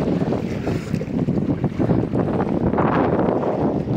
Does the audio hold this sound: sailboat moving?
yes